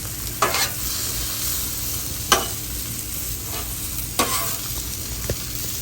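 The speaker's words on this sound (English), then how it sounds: "I got my sausage browning right here" Sausage and hash brown potatoes fry on an outdoor grill, giving a constant close sizzle broken by a few sharp scrapes from stirring or turning.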